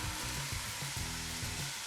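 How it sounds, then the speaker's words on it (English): Greasy sausage meat browns in a pot with no added oil, a steady close sizzle and crackle filling the moment with soft stirring pulses and no talking. "Okay, we're just gonna brown that."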